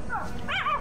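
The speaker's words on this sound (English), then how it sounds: "Like space slug puppies." Space slug puppies from an animated TV show let out a couple of brief, high whimpering whines, close and clear over a low background.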